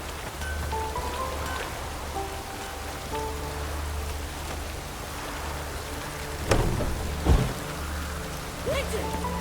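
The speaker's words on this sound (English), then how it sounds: "It's really raining now." Steady rain patters on surfaces under a low rumble of distant thunder in The Witcher 3: Wild Hunt, with a couple of louder thumps and faint tonal game music.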